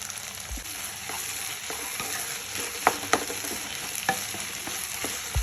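Okra curry frying in a pan is stirred steadily, a continuous close sizzle broken by sharp scrapes and clicks of the spoon against the pan, with no voices.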